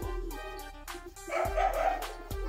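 A dog barks indoors, a handful of sharp woofs at irregular intervals, fairly distant and not loud, over steady outdoor background noise.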